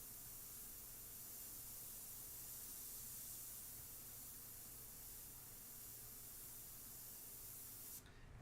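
A $149 airbrush sprays paint in one steady, faint, continuous hiss lasting several seconds before cutting off near the end.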